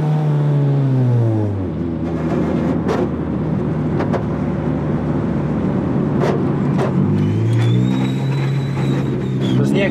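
A Japanese car's engine revs up and settles, rising and falling pitch heard close by in a garage setting, running steadily for several seconds with brief voices over it.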